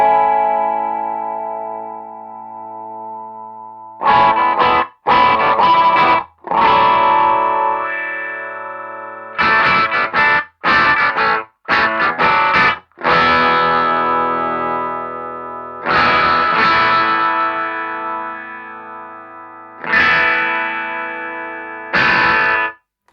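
Electric guitar with wide-range humbuckers runs through a Muir Audio Morphtone EQ pedal, giving a distorted, bright tone in sustained chords and choppy bursts separated by short gaps, loud and up close.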